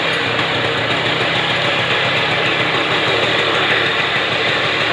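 A TVS XL Heavy Duty moped engine idles steadily after carburetor cleaning, a constant buzzing putter heard close and loud with no variation and no voices.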